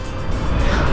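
Road traffic on a Ghaziabad street makes a dense, loud, low engine rumble and whoosh of passing vehicles, heard close and continuous over a very short stretch.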